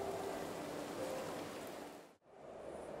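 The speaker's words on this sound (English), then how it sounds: "the water's surface will lap against the player's camera" Water in the video game Jaws of Extinction laps and washes against the player's camera, a steady close surf-like swish that drops out briefly before returning.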